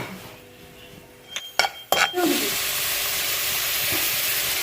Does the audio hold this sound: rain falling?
no